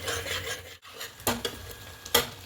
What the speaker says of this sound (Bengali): খুব ভালো করে এটাকে মিশিয়ে নেবো আর এখনো মতো নাড়তে থাকবো